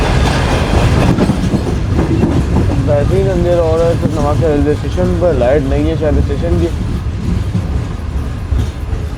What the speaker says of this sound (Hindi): 10:30 बजे ट्रेन हमारी अप्रोच बना रही है ट्रेन के दिल में, यानी नवाबशाह रेलवे स्टेशन पर